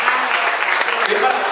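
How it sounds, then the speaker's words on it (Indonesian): Applause from a comedy open mic audience, a short dense burst of clapping with some crowd voices blended in. "tepuk tangan"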